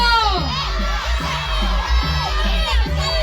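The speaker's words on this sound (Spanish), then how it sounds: "Pero queremos un grito." A crowd of children shouting and cheering together, loud overlapping high voices with excited whoops, under a low rumbling background hum.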